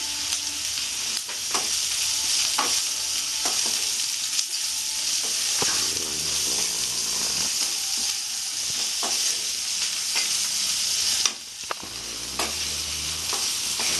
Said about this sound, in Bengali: পেঁয়াজটা আমি নরম করে লাল লাল করে ভেজে নেব